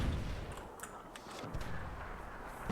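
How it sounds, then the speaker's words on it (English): Mortar fire in the Myth II Soulblighter strategy game sounds as dense, rumbling explosions layered into a continuous booming wash, with a few sharper cracks over a loud low roar. "Mortars are just wreaking havoc in the middle."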